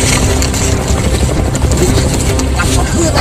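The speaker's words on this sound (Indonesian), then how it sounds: "Helikopter" A helicopter in a Sundanese Rambo parody film beats with rapid rotor chop under a loud, dense mix, close and constant, while people talk over it.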